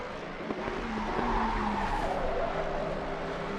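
Tyres squeal steadily on a Ford Mustang race car in a racing video game at the Bathurst circuit, a continuous skidding screech with engine roar beneath, loud and sustained without a break.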